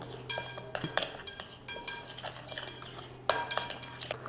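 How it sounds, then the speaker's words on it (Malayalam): A spoon mixes marinade with vinegar and salt in a bowl, scraping and clinking against the sides in repeated close bursts of bright metallic taps over a steady low background hum. "എന്നിട്ട് നല്ല രീതിക്ക് ഇതൊന്ന് യോജിപ്പിച്ച് കൊടുക്കാം"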